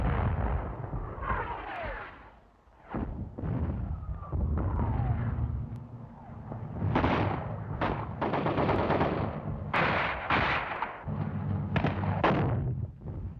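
Gunfire and artillery fire pound a bunker in a series of loud bursts and heavy booms with rumbling gaps between, fairly close and continuous toward the end.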